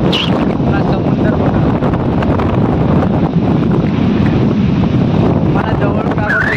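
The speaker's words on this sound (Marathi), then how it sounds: "तर इकडे समुद्र आहे" Wind buffets the microphone at a seashore while sea waves wash in with a constant loud roar, close and rough throughout.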